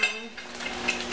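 A used pan and utensils are set down in a kitchen sink after making a ham, egg and cheese sandwich in a toaster oven, giving light metallic clinks and clatter at close range, with bright taps near the start and end.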